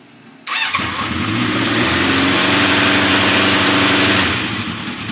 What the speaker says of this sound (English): Now we're going to give her a little test fire up and see how she sounds. This is warm, but I'm gonna choke it anyways